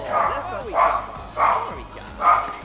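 A small dog in The Sims 3 gives four evenly spaced bark-like yips, each a short bright burst with whiny tails, over a low background hum.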